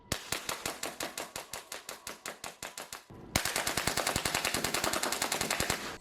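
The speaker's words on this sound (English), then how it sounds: "Let's see a couple of shooting tests here." An airsoft pistol fitted with a T238 tracer unit fires two rapid strings of sharp, evenly spaced shots, the second burst louder and faster, with no talking.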